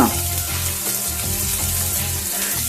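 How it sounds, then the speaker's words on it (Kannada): Sliced onions and curry leaves frying in oil for chicken dry roast, a loud dense steady sizzle close up with faint stirring, no voices. "ಈ ಈರುಳ್ಳಿ ಅಂತಕ್ಕಂಥದ್ದು ಸ್ವಲ್ಪ ಗೋಲ್ಡನ್ ಬ್ರೌನ್ ಆಗೋವರೆಗೂ ನಾವು ಇದನ್ನು ಹುರಿಬೇಕಾಗತ್ತೆ"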